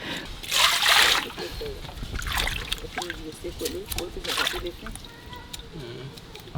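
Water splashes and sloshes in bursts as fish are washed by hand in a Haitian home kitchen, with people talking throughout.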